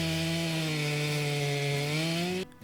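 Chainsaw cutting through a 4-foot section of log, a loud steady engine drone with a slowly dropping pitch as the chain bites into the wood, ending abruptly as the cut finishes.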